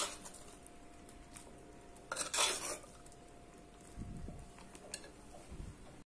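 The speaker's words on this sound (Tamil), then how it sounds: "இப்ப நல்லா நம்ம இந்த வெள்ளை தண்ணியோட கலந்து விட்டுலாம்" A spoon scrapes and clinks in a pan while boiled sundal is stirred into jaggery water, with a few brief clattering bursts over a quiet background and no talking.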